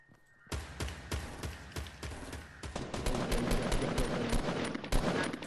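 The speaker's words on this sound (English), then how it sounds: "Where's the shots coming from?" Rapid bursts of video-game gunfire in Fortnite, dense overlapping shots crackling almost continuously after a short quiet start, loud and close with some heavier thumps mixed in.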